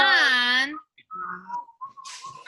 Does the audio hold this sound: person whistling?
yes